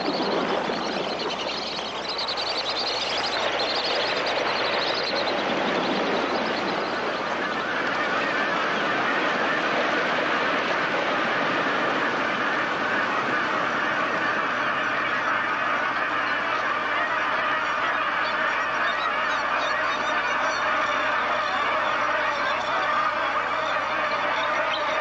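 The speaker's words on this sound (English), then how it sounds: "Its presence makes these whistling ducks nervous and flighty. Their sudden takeoff alarms other birds," Whistling ducks and other wild birds in New Guinea burst into flight together, a dense wash of wingbeats and honking calls that swells early and then continues as a steady, busy din with no talk.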